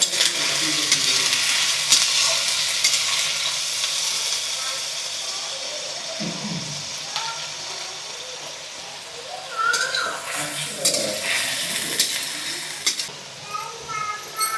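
Paneer frying in hot mustard-free cooking oil gives a steady, fairly loud sizzling hiss that fades slightly midway, with faint voices and some clattering nearby.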